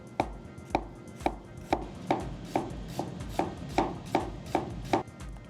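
Burdock root is sliced thinly with a knife on a board: a dozen crisp, evenly spaced cuts land about twice a second, close and clear, with no talking.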